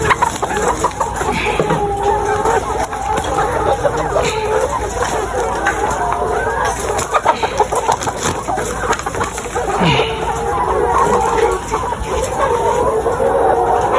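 Laying hens on a poultry farm keep up a dense, continuous clucking chorus with scattered louder calls, and a person talks over the flock.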